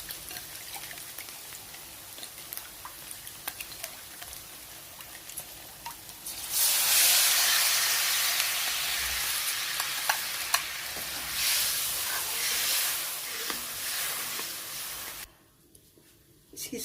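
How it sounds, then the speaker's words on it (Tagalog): Onion frying in a pan for orange chicken, starting with quiet stirring, then a loud, steady sizzle that holds close and bright before cutting off abruptly near the end. "Fry until the aroma comes out and the onion turns golden brown."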